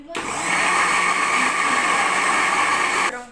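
An electric mixer grinder blending an herbal kadha whirs loudly and steadily at close range, starting abruptly and cutting off after about three seconds.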